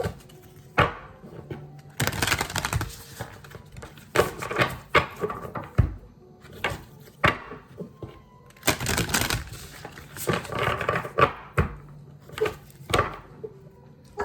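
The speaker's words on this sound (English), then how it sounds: "I already shuffled this, but I'm going to shuffle it again." Oracle card deck shuffled by hand, a series of papery riffling bursts and soft taps coming in uneven clusters across the clip, close and fairly quiet, with short pauses in between.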